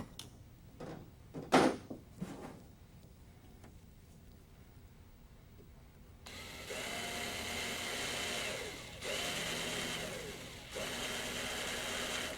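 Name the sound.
drilling cleco holes in helicopter windscreen with unibit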